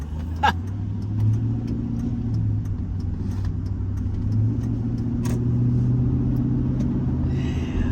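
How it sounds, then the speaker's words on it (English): The engine of a 2005 Chevy Silverado pickup towing a load drones with a low, strained hum and rumble that builds steadily, alongside faint clicks and road noise in the cab. "And you really hate to make this engine work as it is right now."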